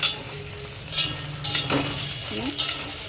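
Dried Bombay duck fish sautéing in a pan for a rice dish, a steady close sizzle with several scraping stirs and squeaks of a spatula against the pan, no talking.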